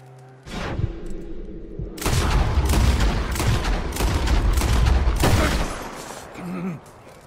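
A burst of loud gunshots and booming fire echoes in a Red Dead Redemption 2 game scene, dense overlapping blasts for several seconds with brief gaps.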